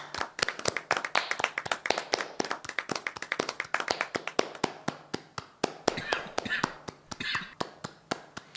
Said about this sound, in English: I'd like to do a quick, respectful round of applause for this manager.